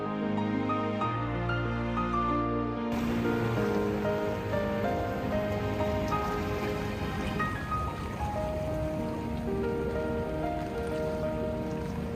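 Heavy rain falls steadily at Longfeng fishing port in Zhunan, Miaoli, a dense continuous hiss and patter on surfaces that stays loud throughout, with faint tonal background sounds mixed in.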